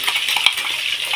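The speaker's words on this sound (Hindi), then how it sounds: "अब इसको पूरा सुनहरा लाल होने तक इसको तेल में ऐसे" Manchurian balls fry in hot oil until golden red, giving a steady close sizzle with a brief light clink partway through, no voices.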